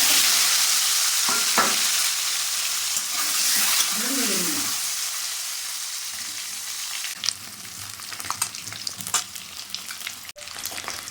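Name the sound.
six eggs frying in hot oil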